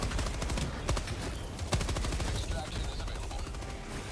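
Dense automatic gunfire in the video game Helldivers 2, sustained rapid bursts filling the clip at loud, close range with crackling impacts layered throughout.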